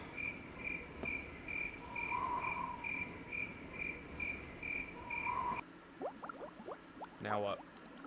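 Persistent cricket chirping from the video game I Have No Mouth and I Must Scream, a steady repeating high trill that runs for several seconds before cutting out, followed by a few faint, scattered sounds.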